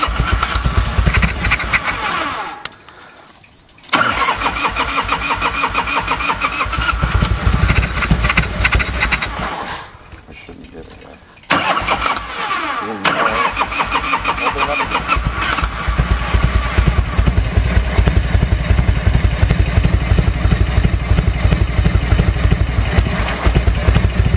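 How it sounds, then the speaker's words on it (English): A Harley motorcycle engine fuelled by wood gas from a gasifier cranks over, stumbles and drops out, then catches and runs as a loud, steady, close-up rumble with no talking. "That's a Harley running off of wood."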